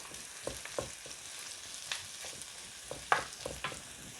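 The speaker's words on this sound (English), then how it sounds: "it's time for another stir" Potatoes and mushrooms are stirred in a Ninja Foodi, a utensil scraping the pot in short, irregular strokes over a steady, soft sizzle of frying, with no talking.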